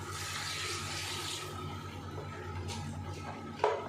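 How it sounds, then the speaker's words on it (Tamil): Water pours steadily into a pot of country chicken curry for a few seconds, a continuous splashing rush over a low electrical hum, ending with a small clunk. "இது வந்து தண்ணி ஊற்றிக்கிறேன்"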